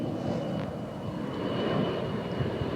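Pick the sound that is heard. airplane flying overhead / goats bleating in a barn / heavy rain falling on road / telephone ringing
airplane flying overhead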